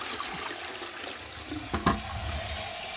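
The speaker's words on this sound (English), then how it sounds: "So I've just fixed the toilet by replacing the flushing device inside there." A toilet with a newly replaced flushing device flushes, a short burst of gushing water rising over a low hiss of running water, with a faint clunk from the mechanism.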